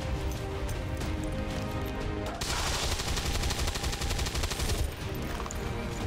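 Rapid bursts of soldier gunfire from XCOM 2 during an Advent convoy mission, a dense, loud stream of repeated shots that grows busier partway through, with no talk over it.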